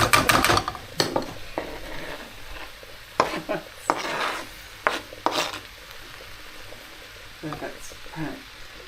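Mushrooms fry in a pan with a steady low sizzle while a utensil scrapes and stirs in irregular bursts, close by, as a person speaks briefly.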